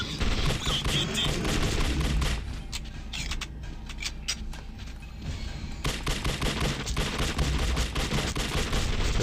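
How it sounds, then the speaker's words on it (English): Enemy gunfire in the video game The Suffering: Ties That Bind, dense bursts of rapid shots crackling in loud volleys. There is a brief lull in the middle before heavy firing resumes. "They're firing at me."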